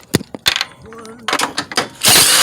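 A ratchet with a 13 mm socket backs out bolts on a 2006 Pontiac Grand Prix exhaust, giving several sharp, close clicking bursts followed by a louder, steady rattle at the end.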